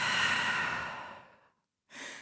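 A deep breath during a sun salutation in downward dog: a long, airy exhale fades out, then after a brief silence a fresh breath starts, close and clear with no talking.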